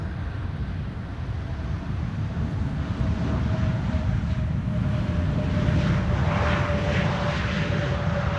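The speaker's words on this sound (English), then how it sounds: "A jet has landed." A jet airliner landing at Amsterdam Schiphol Airport on a windy day, a steady loud engine roar that swells slightly over several seconds, mixed with wind rumble and a faint whine, no voices.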